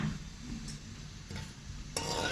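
Cardamom seeds frying in half a kilo of ghee in a wok, a soft continuous sizzle with occasional stirring scrapes and a brighter hiss rising near the end.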